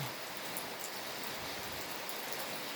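Rain falls steadily as a dense, even hiss, close and unbroken throughout with no voices.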